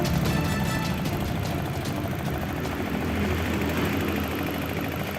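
Fishing boat engine running at a crowded harbour in Tegal, a dense, continuous loud rumble with steady throbbing, filling the whole stretch without speech.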